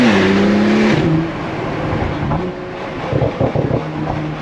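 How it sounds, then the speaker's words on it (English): A Porsche Turbo S fitted with a Quicksilver exhaust revs loudly, then the engine note falls away into a lower burble with a few scattered crackles, close and clear with no talking. "So can you hear the pops and bangs?"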